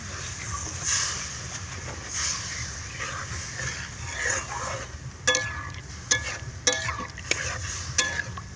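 Coconut milk sweetened with a little sugar is stirred in a cooking pan, giving a steady low simmering hiss with a few sharp clicks and scrapes of the utensil toward the end.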